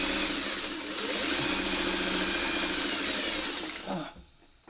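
Sewing machine stitching quilt pieces for a house block, a loud, close, steady motor whir with rapid needle chatter running for about four seconds before stopping abruptly.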